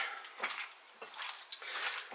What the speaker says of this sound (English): I just mix that in by hand.